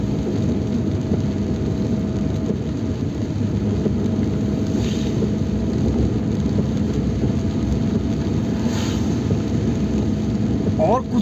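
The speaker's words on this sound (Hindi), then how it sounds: "आज काफ़ी बरसात हो रही है यहाँ पर" Heavy rain pours steadily on the Jim Corbett–Ramnagar highway in forested hill country, a dense continuous hiss with low thunder rumbling underneath for the whole stretch and no speech.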